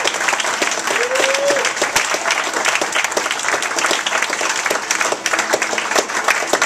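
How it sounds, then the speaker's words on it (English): Loud, sustained audience applause fills a music venue during the closing set of a live acoustic concert, a dense wash of clapping from a crowd with no music playing. "Give him a big hand."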